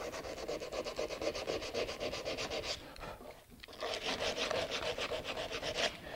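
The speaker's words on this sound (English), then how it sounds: "now to attack it with coarse sandpaper" Coarse sandpaper is rubbed back and forth over a relief-carved wooden leaf in steady, rhythmic rasping strokes, close and loud. The strokes stop for a short moment and then carry on, with no talking.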